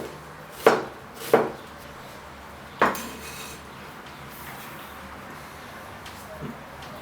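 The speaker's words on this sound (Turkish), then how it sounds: "Soğanı Önce ikiye kesiyorum. Olabildiğince ince şekilde kıyacağız." A knife chopping onion finely on a board for risotto, three sharp distinct cuts spaced apart, then quieter faint taps, close and clear against a low room hum.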